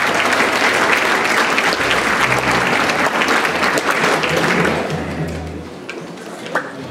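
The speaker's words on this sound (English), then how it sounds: "A round of applause for those fine people." A school audience at a grade 7/8 orchestra concert applauds staff, loud, dense clapping that swells and then tapers off near the end, leaving a few scattered claps and thumps.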